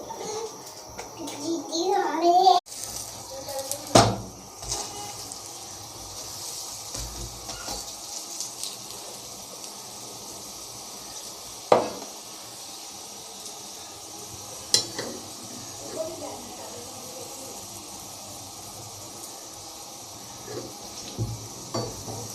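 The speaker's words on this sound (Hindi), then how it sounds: "अब हम इसको तवे के ऊपर डालते हैं। ऊपर हम ऑयल लगाएंगे।" Aloo paratha frying in oil on a hot tawa griddle gives a steady, moderate sizzle throughout, broken by a few sharp clatters and scrapes from handling.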